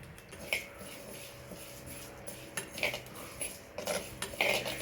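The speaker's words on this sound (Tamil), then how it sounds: "பார்த்துக்கோங்க, வறுக்க போகிறேன்." Lentils dry roasting in a pan, turned with a metal utensil: faint intermittent scrapes and light clinks against the pan, spaced irregularly in a quiet room.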